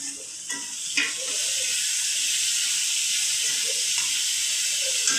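Onion and garlic frying in a pan give a close, steady hiss and sizzle that swells in after a few soft knocks and then holds evenly, with another faint clink near the end.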